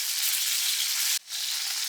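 A steak searing in oil in a hot pan right after being flipped, giving a loud, steady sizzle that cuts out briefly near the middle and then returns almost as strong.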